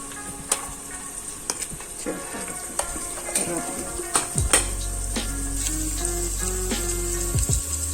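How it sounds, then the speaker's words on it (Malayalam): Onions sautéing in a pan with fresh mint, coriander and curry leaves, a steady close sizzle with scattered scraping stirs, then a low steady hum rises under the frying for the last few seconds; no talking. "എന്നിട്ട് നന്നായി വഴറ്റിയെടുക്കുക"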